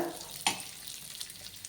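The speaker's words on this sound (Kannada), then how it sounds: "ನೀಟಾಗಿ ಫ್ರೈ ಮಾಡ್ಕೊಳ್ಳೋಣ. ಇನ್ನೂ ಸ್ವಲ್ಪ ಹುರ್ಕೊಳ್ಳೋಣ ಇದನ್ನು." Ingredients frying in a pan for sheer khurma, a soft continuous sizzle with a sharp stirring scrape early on, close but quiet, no talking.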